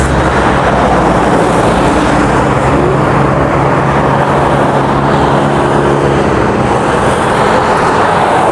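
Steady broadband roar of traffic on the five-lane Bangkal Road highway in Carmona, Cavite, a continuous wash of passing vehicles with no talking.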